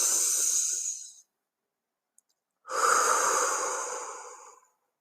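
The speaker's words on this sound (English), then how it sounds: "You're breathing all the way into the bottom of your belly" Two slow, deep breaths into the belly during a calm guided breathing exercise, each a long airy rush followed by silence, close and soft with no talk.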